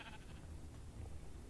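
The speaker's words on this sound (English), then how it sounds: "I kind of want to like name tag these sheep." Sheep bleating in Minecraft Bedrock Edition: a couple of soft, wavering in-game bleats, quiet and alone with no talk.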